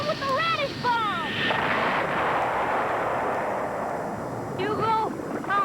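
Cartoon radish bombs explode in the animated film Hugo the Hippo, a sustained booming, rumbling blast lasting several seconds, loud and close, framed by excited character voices before and after.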